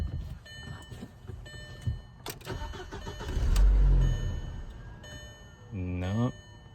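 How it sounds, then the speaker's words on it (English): A 2004 Volkswagen Passat engine cranks, catches with a low rumble, then dies away; a second cranking attempt follows, with faint talk in the background. "it turned over and the engine started, but it shut right back off"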